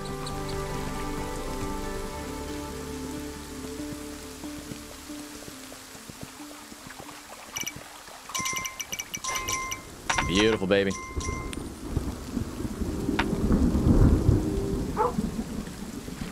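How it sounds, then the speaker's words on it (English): Thunderstorm and rain in the video game Kingdom Two Crowns, with steady rainfall and rolling thunder swelling near the end over game music, and someone speaking briefly. "Sounds pretty stormy out here, man"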